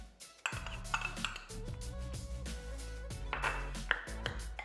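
A spoon stirs chopped tomatoes, pepper, guacamole and sweet corn in a bowl, giving repeated clinks and scrapes against the dish over a steady background.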